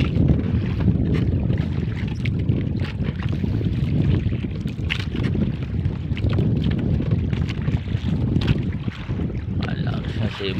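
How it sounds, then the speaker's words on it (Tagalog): Strong wind gusts buffet a small fishing boat at sea, a steady loud rumble of wind noise over the hull and water with no talk. "Malakas na simoy na naman ang hangin"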